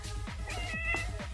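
A house cat meows indoors, a short run of close, insistent plaintive meows over a faint background hum.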